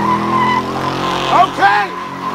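A car spins out with squealing tires, brief rising and falling screeches over a steady engine drone, with voices talking underneath.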